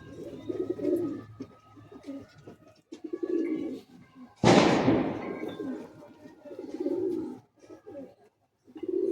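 Pigeons coo in a loft in repeated soft, low bursts with short pauses between them, broken midway by one sudden loud flapping or rustling burst close by.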